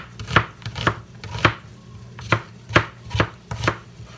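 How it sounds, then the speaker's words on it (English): Knife chopping an onion on a cutting board for spaghetti sauce, about eight sharp, close thuds in a loose, uneven rhythm with brief pauses, no talking. "Chop this other one because I want a whole onion in there."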